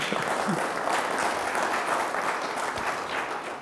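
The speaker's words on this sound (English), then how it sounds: "You can clap now or at the end." Sustained audience applause after a presentation on economic value chains and risk costing, a full, even roar of clapping that stays steady and then begins to ease near the end.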